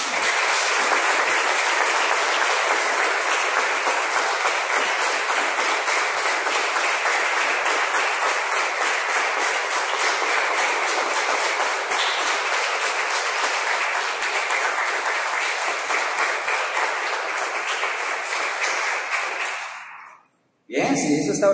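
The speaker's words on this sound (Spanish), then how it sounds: "Damos un aplauso, hermanos." A church congregation applauds steadily and loudly for about twenty seconds, dense clapping that fades out abruptly near the end.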